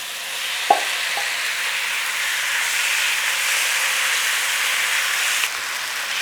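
Beef sizzles steadily in a hot pan, a close, even hiss with a couple of quick utensil clinks near the start.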